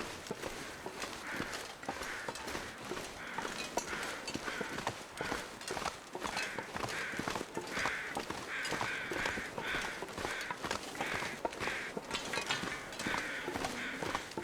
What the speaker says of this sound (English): I hear some crows, but that could just be over the corpse.